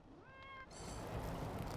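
A cat meows in the video game Wasteland 3, a single rising, drawn-out meow heard clearly over a steady game background hum that grows louder afterward.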